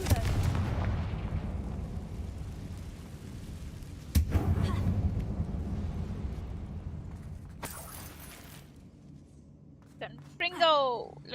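The Confringo fire spell blasts inside an abandoned mine in Hogwarts Legacy, a booming burst with a rumbling tail, followed by a second sharp blast partway through and a brief warbling magical flourish at the end.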